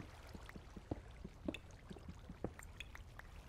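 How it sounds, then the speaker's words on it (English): Water drips inside a cave in a modded Minecraft world, falling as scattered, irregular soft plinks, fairly quiet and alone with no voices. "Oh, you can hear, like, the cave dripping."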